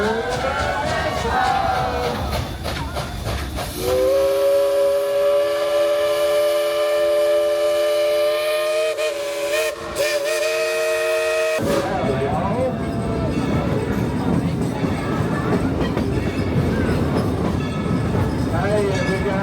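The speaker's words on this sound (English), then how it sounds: "Let's tell the engineer to blow the whistle real loud." Dollywood steam train whistle at Smoky Mountain Christmas, blown long and loud for several seconds over the rumble and clatter of the moving train, with chatter around it.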